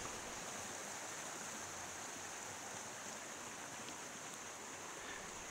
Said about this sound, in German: Bei einem Blick nach hinten sieht man den kleinen Wasserfall.